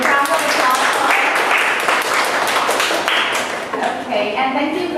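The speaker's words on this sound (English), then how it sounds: "Can I have a round of applause for her?" Steady applause from a conference session audience, a full, close round of clapping that carries on for several seconds, with some voices underneath.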